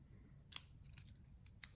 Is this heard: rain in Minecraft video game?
no